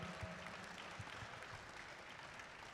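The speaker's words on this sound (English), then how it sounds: "give them a huge round of applause." Audience applause at a FIRST robotics district event in Columbus, a faint, distant, steady wash of clapping from a large crowd, sustained without talk.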